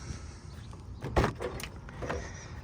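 A Jeep Gladiator door, fitted with rock sliders and a light kit, opens with a sharp latch click followed by a few softer thumps and clicks at close range.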